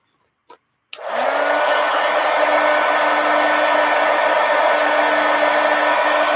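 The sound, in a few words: hair dryer drying wet stars on calendar collage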